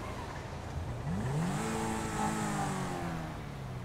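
A car engine revs up and holds in the GTA V game, a steady mid-level engine drone with a rising whine, no talk.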